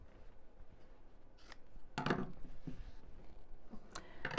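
Scissors snipping off the fabric corners of a bag, several crisp close cuts spaced irregularly against quiet room noise.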